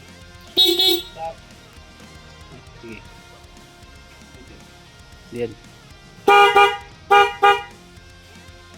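Short motorcycle horn beeps from a Honda PCX sound in bursts: one near the start, a faint one midway, then three quick honks, close, with people talking around them.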